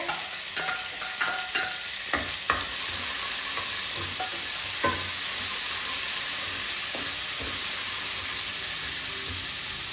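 Coarsely ground ginger and garlic paste fries in a pan with a steady, close sizzle. Early on, a series of sharp clinking stir strokes sound against the pan, then the frying settles into a continuous hiss with occasional taps and no speech.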